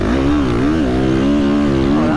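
A motocross bike labours hard through sand in a high gear, its engine droning loud and close with a wavering pitch as it struggles to gain speed.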